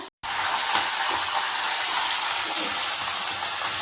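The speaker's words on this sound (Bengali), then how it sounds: "এখানে মাংস পেঁয়াজ ভাজা হচ্ছে" Meat and onions fry in a pan with a loud, steady sizzle and hiss that starts abruptly after a brief silence and carries on evenly, close to the listener.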